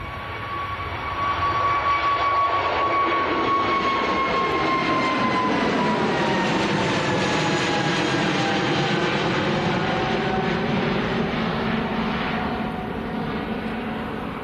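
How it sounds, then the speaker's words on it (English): An Airbus A320neo airliner rotating early on take-off at Manchester Airport, a steady loud jet roar with a whining engine tone that slowly falls in pitch as it passes, continuous with no talking. "This is an A320 Neo,"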